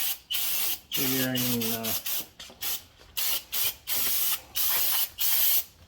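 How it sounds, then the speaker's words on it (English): Brake cleaner sprayed onto a car brake to wash off spilled brake fluid, heard as about nine short, forceful hissing bursts close by, with a brief voice early on. "Clean off the brake fluid."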